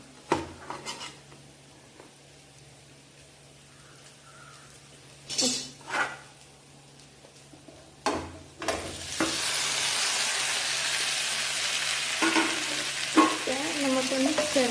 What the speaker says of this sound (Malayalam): നമുക്കൊന്ന് ചെറുതായിട്ട് ഇത് ഇളക്കി കൊടുക്കാം